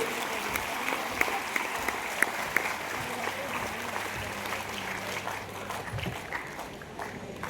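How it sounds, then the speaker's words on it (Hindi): Sustained crowd applause at a road-safety event for children and soldiers in an army cantonment, continuous and fairly loud with a few sharper claps standing out, fading slightly toward the end. "तालियां रुकनी नहीं चाहिए"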